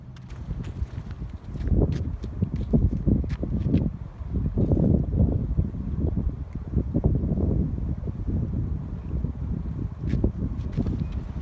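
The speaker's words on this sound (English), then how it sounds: "It is very, very windy today." Strong wind blowing outdoors at a nature preserve, buffeting the microphone in loud, rumbling gusts that swell and ease throughout, with scattered crackles and rustles on top.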